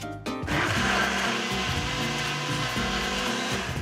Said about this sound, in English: Victor whips up a barbecue sauce in a blender using sautéed onion and jalapeno chilies with fresh tomato puree